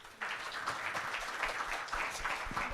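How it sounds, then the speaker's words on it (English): Audience applause for the panelists closing a World Health Summit regional meeting session, a steady dense patter of many hands clapping at moderate loudness throughout. "may we have a round of applause for our panelists"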